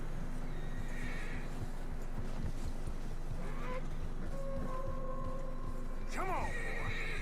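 A horse in Red Dead Redemption 2 trudges through fresh snow with a steady clip-clop of hooves and gives a clear whinny near the end, under characters' talk and ambient game sound.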